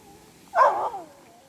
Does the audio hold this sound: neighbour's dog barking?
yes